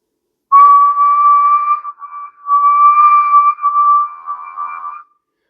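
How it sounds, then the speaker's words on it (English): A person whistles steadily into a Retevis MB2 CB radio microphone on low-power AM, a clear sustained tone broken by a few short pauses and slight pitch wavers, heard alone for about four and a half seconds. "I'm going to whistle into the mic so you can see the modulation."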